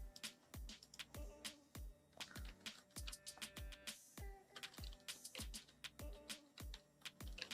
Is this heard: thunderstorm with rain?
no